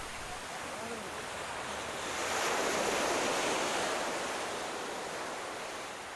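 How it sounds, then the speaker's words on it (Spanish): Sea waves along the Portuguese coast, a broad roar of surf that swells to a louder crash midway and then eases back into a steady wash, with no voices. "El mar."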